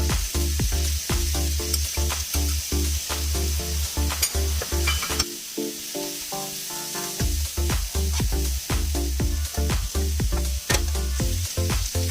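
Mushrooms cook in butter in a pan with a close, continuous sizzle, broken by frequent sharp clacks and scrapes of a utensil stirring, plus a steady low hum underneath.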